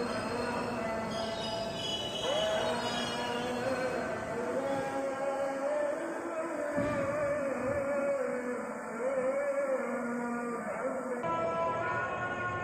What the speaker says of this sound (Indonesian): Si Tokyo Metro seri 6000 yang langsung masuk ke jalur 4